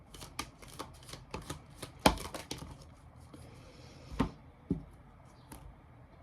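Tarot cards being shuffled by hand in quiet room: soft, irregular papery slides and taps with a few louder snaps, close and faint, with no talking.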